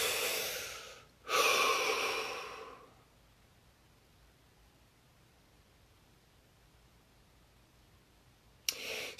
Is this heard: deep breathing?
yes